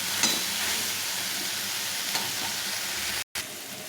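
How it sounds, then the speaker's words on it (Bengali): Soybean chunks being stir-fried with spices in hot oil make a steady, close sizzle that holds evenly throughout, broken only by a brief dropout near the end, with no talking. "এরকম করে বেশ কিছুক্ষণ ধরে কষিয়ে নিতে হবে, যাতে সয়াবিনের মধ্যে মশলাগুলো ঢুকে যায়।"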